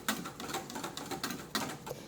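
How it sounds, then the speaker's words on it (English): A whisk clicks quickly and rhythmically against a pot as an egg mixture for homemade vanilla ice cream custard is beaten over medium-low heat. The close, dry taps repeat in steady bursts with no talk. "Now on lowish medium heat, we're gonna whisk this"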